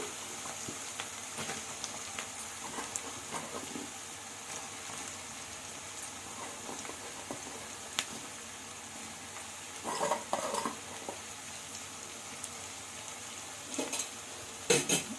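Onions and eggplant cooking together in a pan for a lotus seed and eggplant curry, with a steady soft sizzle and occasional stirring scrapes and utensil clinks, close and without talk.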